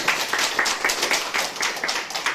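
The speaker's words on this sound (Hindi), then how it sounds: "एक बार जोरदार ताली" Steady hand clapping from a small gathering in Gondia, fairly loud and close, with evenly spaced claps about four per second and no talk over it.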